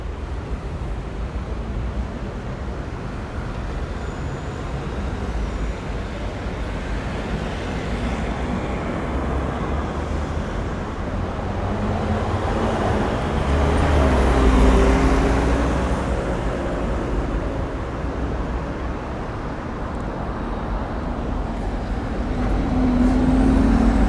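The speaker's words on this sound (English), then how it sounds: "Buses that are driving past here, nearly all blue, green and white, with the only occasional red and yellow bus." Blue, green and white city buses driving past on Archduke Louis Salvador street in Palma de Mallorca, a continuous traffic roar swelling loudly as one passes close mid-way, then easing and building again, with no talk.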